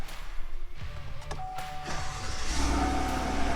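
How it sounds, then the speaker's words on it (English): A Chevrolet Silverado pickup with a very quiet exhaust starts up, with a chime and a mechanical clunk early on, then the engine settles into a low, even idle that builds slightly and holds steady nearby. "that exhaust is so quiet"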